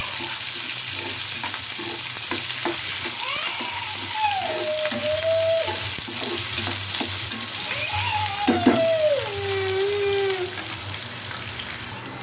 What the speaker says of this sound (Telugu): ఇప్పుడు ఈ ఆనియన్స్ కొంచెం బాగా బ్రౌన్ కలర్ వచ్చే వరకు వేగనివ్వాలండి.